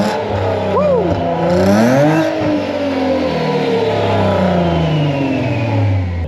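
A supercharged car strapped onto dyno rollers revs loudly up and down, with a rising engine tone and steady roar close by under a buzzing background; no speech.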